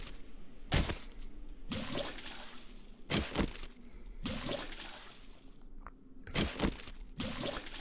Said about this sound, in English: I'm filling up all of my jars so that I can have some water to go back with me.